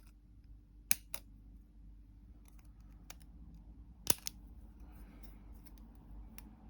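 Scissors snip out paper parts for a miniature USS Enterprise D starship model, giving a few sharp, isolated cuts close by over a quiet room background.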